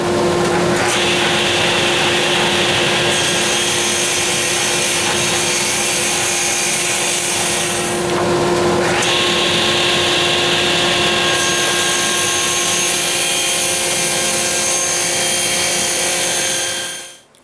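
A power saw ripping a 1.25 inch strip from a sheet of plywood runs loud and continuous for the whole stretch, its steady whine dipping briefly midway before biting back in, then stopping at the end.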